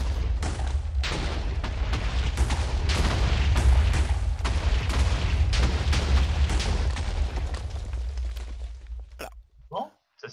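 A dynamite explosion in the Escape the PuzzleMaster video game, a loud sustained rumbling blast with dense low booming that fills about nine seconds before cutting off abruptly, followed by brief faint sounds.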